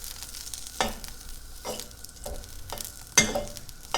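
Green beans stir-frying in a hot pan: a soft, continuous sizzle with several scraping strokes of a spatula against the pan, spaced irregularly and heard close.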